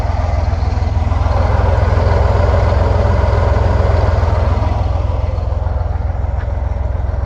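A Chevrolet Corvair engine with blow-by, from a car that had been flooded, runs steadily at idle with a loud, close, unbroken low rumble and no change in pace.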